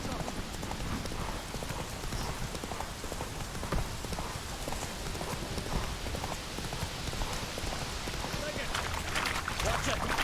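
Horse hooves pound in a fast, steady gallop throughout, loud and close, with a faint patter like rain beneath, as a rider spurs the mount in The Witcher 3: Wild Hunt.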